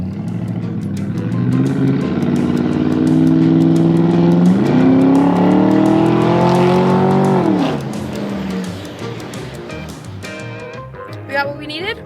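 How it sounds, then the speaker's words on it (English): A race car taken out on a parts run accelerates loudly and close by, its engine pitch climbing through gears and then dropping off as it slows, with a brief clatter near the end. "I get to take the race car."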